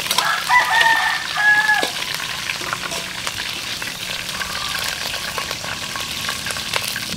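Sizzling oil from beef ribs frying in a pan, a steady crackle throughout, with a few brief tonal chirps early on and no talking.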